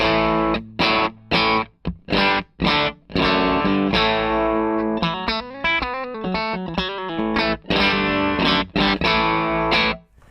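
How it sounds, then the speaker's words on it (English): An electric guitar played through a clean, dry tone with no reverb, bursts of short choppy chords cut off sharply, then a run of ringing notes before more clipped strumming, loud and close with no voices. "So here's my clean sound with no reverb."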